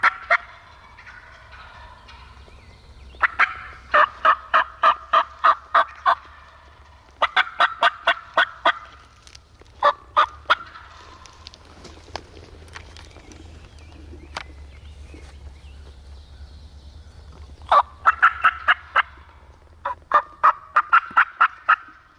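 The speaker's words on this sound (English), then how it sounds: "Taking work calls while I have turkeys gobbling for me." Wild turkeys gobble in repeated loud bursts during an opening-day turkey hunt, each call a rapid rattling series with pauses between, ringing out over a quiet outdoor background with no talk.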